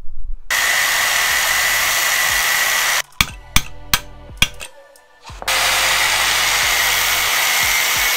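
Loud, continuous power-tool whine cutting through seized, corroded front suspension parts on an Astra VXR Nürburgring, running steadily, breaking off for a couple of seconds with sharp clanks and knocks, then starting up again at full volume.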